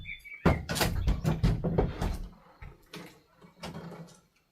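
A wooden door is offered up into a doorway opening between two cottages, giving a run of close knocks, bumps and scraping thuds of wood against the frame, loud at first and then tapering off.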